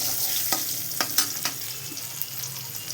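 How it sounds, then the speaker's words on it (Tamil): Garlic fries in oil in a pan, a steady hiss with several quick scraping strokes of a spoon stirring it, close and alone without voices. "பூண்டு நல்லா வதங்கட்டும்."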